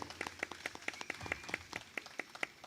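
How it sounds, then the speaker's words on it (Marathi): Applause from a crowd at a Marathi singing talent show after a young singer's devotional song, faint and brisk with distinct rhythmic claps over a low hum, no voices. "जोरदार टाळ्या अर्णवसाठी."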